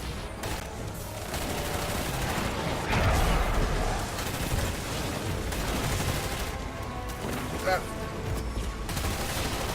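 Continuous gunfire from a weapon in the video game Destiny 2, dense and rattling over a busy game soundscape, with a louder burst near the middle and a sustained barrage throughout, heard without clear talk.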